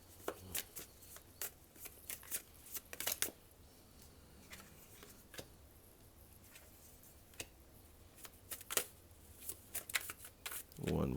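Tarot cards are shuffled close up in quick riffling bursts and soft slaps, fairly quiet with pauses between.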